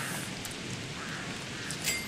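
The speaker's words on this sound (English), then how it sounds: "I'm in winter, it's raining, there's thunderstorms." Steady rain falling during a winter thunderstorm in the survival game Don't Starve, a continuous hiss of moderate loudness with a soft rumble underneath and no talking.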